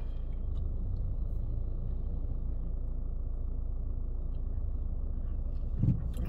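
A manual-gearbox learner car during a driving lesson gives a low, steady engine rumble heard from inside the cabin, droning evenly throughout with a small bump near the end and no talking.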